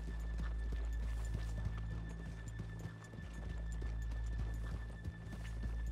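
Horse hooves clip-clop steadily in the video game Red Dead Redemption 2, a quick even gallop-like rhythm of close, distinct hoof strikes over a low continuous music drone, with no speech.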